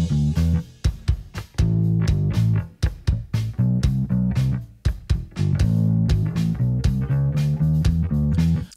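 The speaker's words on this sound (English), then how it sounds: "So the compressor on the bass only compresses when the kick drum hits." Kick drum and bass play together, the bass sidechain-compressed by the kick so it dips a few dB on each hit, giving a pumping rhythm of thumps under rolling bass notes, loud and alone.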